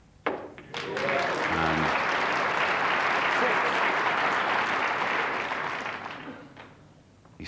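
A snooker crowd at the 1992 World Championship semi-final between Jimmy White and Alan McManus breaks into sustained applause, swelling quickly, holding loud and steady, then tapering off; a brief voice is heard just before it starts.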